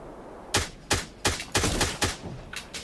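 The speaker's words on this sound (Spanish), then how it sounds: "Toma, disparo." Gunshots in a PvP video game, six or seven loud, sharp reports in quick irregular succession, close and alone over faint background noise.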